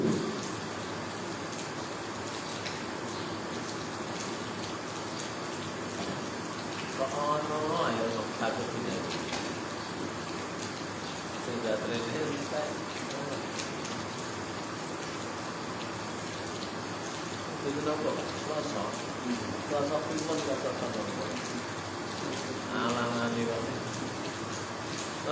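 Rain falls steadily in a dense, continuous hiss throughout, while a voice speaks faintly in short stretches beneath the downpour.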